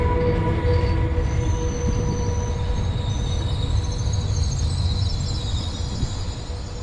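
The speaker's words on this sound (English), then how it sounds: "this here is my train coming in" A locomotive-hauled passenger train pulls into a Norwegian station, its wheels squealing and brakes hissing in long high tones over a low rolling rumble that slowly fades as it comes to a stop.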